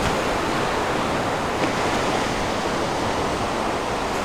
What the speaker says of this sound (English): There's a beach here, it's nice in summer,